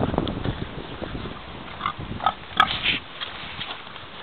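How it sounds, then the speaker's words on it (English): Free-range pigs feed at a drum grain feeder, nudging its base to release grain, with soft snuffling, grunts and a few sharp clicks and knocks close by in a quiet outdoor setting. "the pigs push on the bottom"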